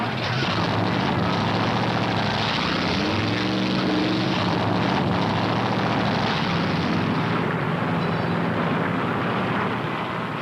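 Stock car engines start and roar together at a Darlington race, a loud, continuous mechanical drone holding steady throughout.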